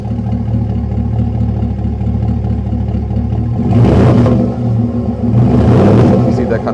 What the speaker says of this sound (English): You see that kind of rumble, and when you accelerate, you see that more coming prominent